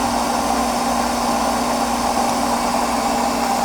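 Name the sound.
DC electric motor running on 15 amps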